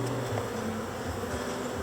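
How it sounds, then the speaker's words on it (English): Honeybees from a newly installed package buzz faintly around the hive, a soft, steady hum over a low outdoor background. "Still got bees here. They're going to find their way out."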